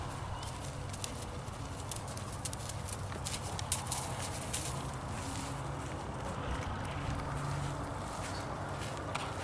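Horse hooves walking with steady clip-clop footfalls on a hard surface, moderately near, continuing throughout under a constant background hiss.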